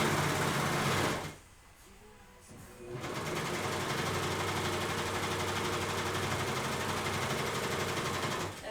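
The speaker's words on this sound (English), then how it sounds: "the way I'm going to do it is to put both pieces, to serge both seam allowances together" A serger sewing machine runs steadily, stitching two seam allowances together and trimming off extra fabric, a loud continuous whirr that pauses for about two seconds near the start before resuming without talk.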